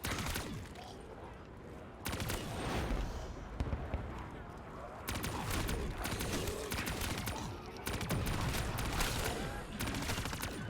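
Rapid gunfire in Black Ops 3 Zombies on the Shangri-La map, with sharp repeated shots and bursts over a busy game mix, broken by short pauses as if for reloading.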